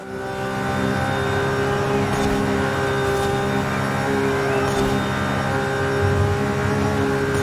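Lamborghini Aventador SVJ racing in Forza Horizon 5, its engine holding a steady, loud, high-pitched wail with layered harmonics throughout, no pauses or talk.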